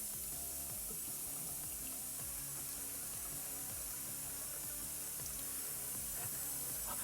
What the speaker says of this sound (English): I gotta fill this up with a liter of water